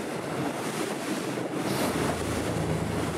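Karnic SL 800 motor boat planing on the sea at about 10 knots and 2500 RPM, a steady broadband rush of hull through water and wind buffeting the microphone, continuous and fairly loud with no talk.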